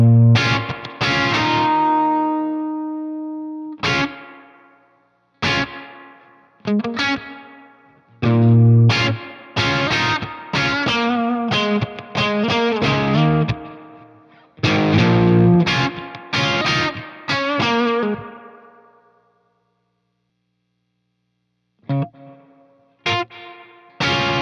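Spring reverb setting on a Source Audio Collider delay and reverb pedal, heard on a bright, distorted instrument playing chords and short phrases, each note trailing off into a splashy reverb tail, with brief silent gaps.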